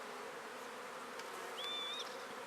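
Honey bees droning in an open hive while frames are checked, a soft continuous buzz with one higher insect whine passing briefly near the end.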